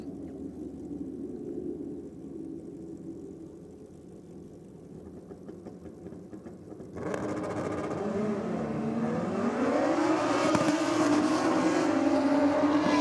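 An Aprilia and a Suzuki Hayabusa motorcycle line up at a track championship drag race, with engines idling low and steady before a sudden loud roar as both launch, the pitch sweeping down and climbing again through the gears.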